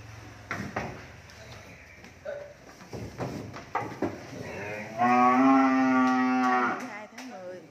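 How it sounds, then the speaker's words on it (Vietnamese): Cattle on a cattle farm in Tra Vinh moo loudly and close, with a long, strongly harmonic low call near the end after quieter stirring and scattered knocks. "Hai tháng 10 còn mấy bò này giao cho anh khách thầy Vinh hết rồi"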